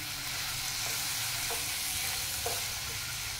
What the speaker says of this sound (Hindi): अच्छी तरह हम चिकन को भूनेंगे